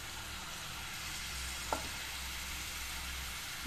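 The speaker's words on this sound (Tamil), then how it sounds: "இப்போ நம்ம அரைச்சி வச்சது இந்த தேங்காய் பேஸ்ட்டை ஊற்றிடலாங்க." A steady, soft sizzle as ground coconut paste fries in a pan for jackfruit seed masala gravy, continuous and even, with one brief clink partway through.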